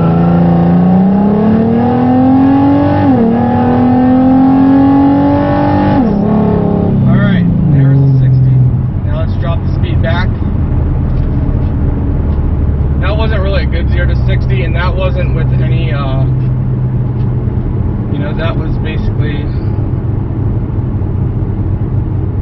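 A car running a 93-octane race tune launches hard from a dead stop on a 0-60 run. The engine note climbs loudly, drops sharply at a gear change and then keeps pulling, with the revving close and dominant throughout.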